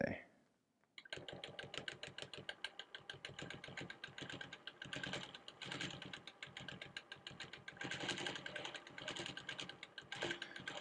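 Sewing machine stitching a basic swirl pattern on a quilt border at 14 stitches per inch, a steady rapid mechanical chatter running continuously after a brief pause at the start.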